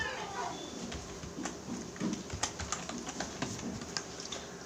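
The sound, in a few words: typing text on a computer keyboard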